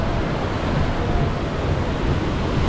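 Caribbean Sea waves wash in at the ferry terminal in Playa del Carmen, a steady broadband rush of surf mixed with wind buffeting the microphone, close and continuous.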